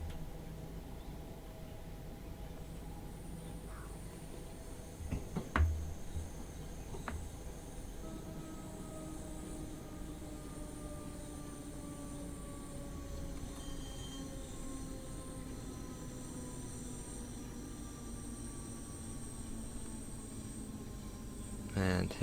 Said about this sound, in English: So we are running as a 3-coach train.